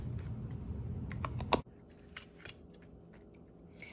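A Big Shot die cut machine cranks paper through its rollers: a dense, grinding rumble, one sharp crunch and a sudden stop, then scattered light clicks and taps close by.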